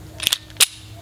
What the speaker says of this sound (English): we'll fire some live rounds here